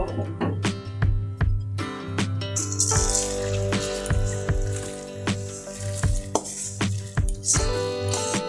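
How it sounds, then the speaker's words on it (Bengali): Pan-fried rice tipped into boiling water in a rice cooker for Bangladeshi bhuna khichuri, giving a close, steady sizzling rattle with grains pattering and pot clinks, loud and continuous with no talk. "এখন এই ফুটানো জলের মধ্যে আমি ভেজে রাখা চাল দিয়ে দেব"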